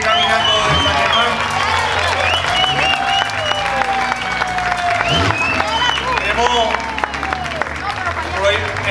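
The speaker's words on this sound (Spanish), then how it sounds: "quiero que recibamos con un fuerte aplauso al compañero Edgar Sayas Colón" Loud crowd applause with cheering and shouts greets Edgar Zayas, a walker arriving on foot from San Germán at a Coamo town celebration; dense steady clapping runs throughout, with voices rising over it.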